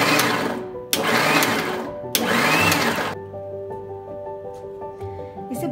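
A kitchen blender coarsely grinds salsa spices in a jar, running in three loud, whirring bursts separated by short pauses, then stopping, leaving a quieter hum behind.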